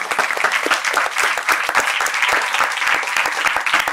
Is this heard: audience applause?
yes